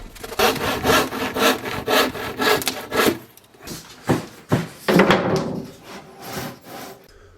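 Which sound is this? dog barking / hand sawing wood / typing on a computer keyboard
hand sawing wood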